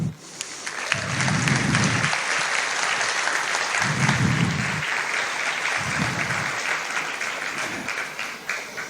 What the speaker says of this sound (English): all of us parents should clap and be proud